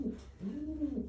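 Racing pigeon breeder bird cooing close by, a soft low throaty coo repeated in two short phrases within a second, alone with no talk.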